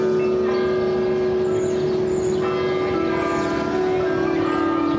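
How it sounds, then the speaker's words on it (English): Church bells in Philadelphia ring at noon, loud and close, their sustained overlapping tones sounding continuously in a dense, ringing wash with no speech. "Church bells."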